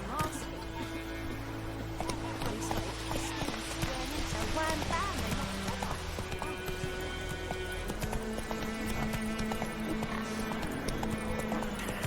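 Roach the horse's hooves clip-clop steadily in Witcher III, a continuous trotting rhythm set against game music and ambience, with a voice speaking over it.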